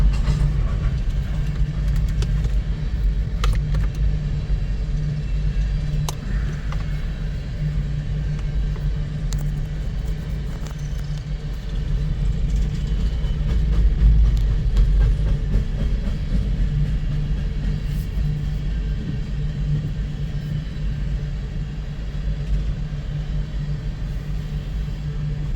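A deep, steady rumble of a heavy freight train with mid-train distributed power locomotives rolling past, low engine drone swelling slightly midway, with no voices.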